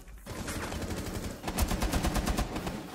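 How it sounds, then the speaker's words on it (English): Rapid machine gun bursts from the video game Rainbow Six Siege, loud and close, firing in a fast even rhythm after a short lead-in of game noise. "Oh, man, you do have a machine gun."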